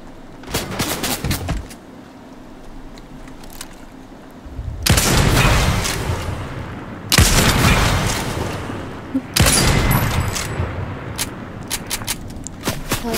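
Enemy gunfire in a video game cracks out in loud, repeated bursts and volleys, with short bangs at first and longer rattling stretches that come close together.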